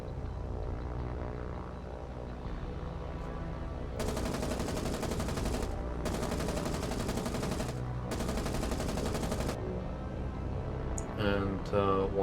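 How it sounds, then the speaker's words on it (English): Three long bursts of rapid machine-gun fire from a rear gunner in the naval game War on the Sea, loud and harsh, rattling over a steady droning engine. "That's the sound of a rear gunner"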